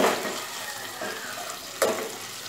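Ginger paste frying and spattering in a hot pan for Bengali mixed dal, a steady broadband sizzle with a sharp burst near the end as water is added, close and continuous with no talk.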